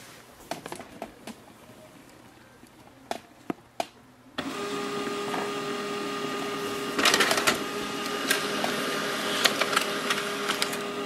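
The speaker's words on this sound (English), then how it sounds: "Instantly it will start the printing." An HP LaserJet M110we laser printer prints a document: a few soft clicks and taps at first, then the mechanism starts with a loud, steady whirring and rolling hum and intermittent mechanical clatter, with no voices.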